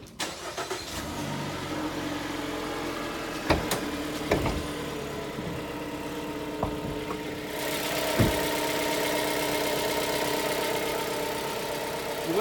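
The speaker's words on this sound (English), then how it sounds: "We'll go ahead and start the engine up and I'll give you a look under the hood." A 2017 Jeep Renegade Trailhawk 4x4 with its 2.4 liter MultiAir engine idles steadily nearby, a constant mid-pitched hum with a few faint clicks and knocks over roughly twelve seconds, its tone lifting slightly partway through, no voices.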